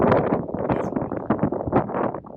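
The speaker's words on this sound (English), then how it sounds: "Yeah, it is that kind of windy." Strong high-desert wind, around 50 mph, buffets the microphone in a steady, roaring rush with gusty swells, loud and close, no one speaking.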